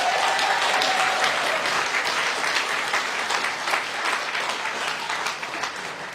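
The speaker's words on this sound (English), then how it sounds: "Let us give our Father in heaven a big round of applause." Sustained applause from a large crowd at a university graduation ceremony, steady and full for several seconds before slowly thinning out.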